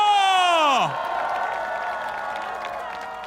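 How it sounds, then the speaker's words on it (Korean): Large outdoor crowd at a Seoul election rally cheering, shouting and applauding loudly and steadily after an amplified voice fades out, the roar sustained and slowly easing. "신원주 재단에게 다시 한번 큰 함성 부탁드립니다."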